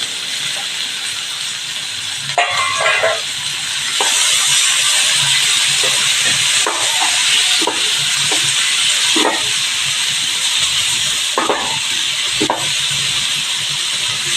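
Boiled kuda bean pods hiss and sizzle as they steam in a hot pan, a steady loud rush of steam with occasional sharper crackles and spatters.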